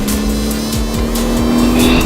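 A Mk 7 Ford Fiesta ST engine drones loudly and steadily while cornering at moderate speed, holding a constant note that rises slightly toward the end, with no speech.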